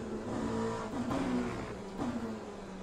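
Engine of an Oreca 07 LMP2 race car in the Le Mans Ultimate game at Portimao drones steadily, swelling slightly as it revs through gear changes, loud and continuous with no talk.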